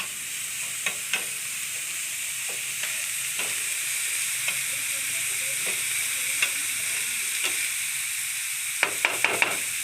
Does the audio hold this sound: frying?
yes